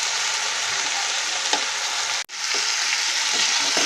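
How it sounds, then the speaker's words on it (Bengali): Pumpkin and potato pieces frying in a pan with onion stalks, a steady close sizzle with stirring scrapes throughout and a brief dip near the middle. "তো আমি এক কাজ করি, আরেকটু এটাকে ভাজা ভাজা করে নিই।"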